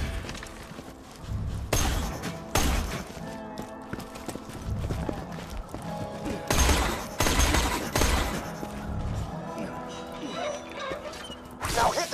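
Loud, dense weapon fire at gas tanks in Borderlands 2, with bursts of crackling shots and blasts recurring across the stretch over a busy game soundscape.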